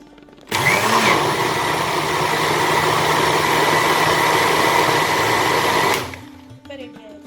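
A mixer grinder grinding pulicha keerai (gongura) leaves whirs loudly and steadily for about five seconds, then cuts off and spins down, followed by faint handling sounds.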